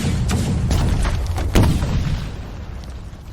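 Cannon fire in a battle, a heavy, rumbling boom that rolls continuously with a sharper blast near the middle before it slowly fades, loud and deep, with no speech.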